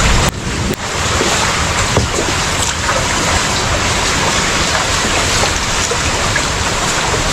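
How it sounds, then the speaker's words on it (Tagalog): Steady rushing and splashing of water as a boat is pushed through shallows, with wind buffeting the microphone throughout. "Nagtutulak ng bangka."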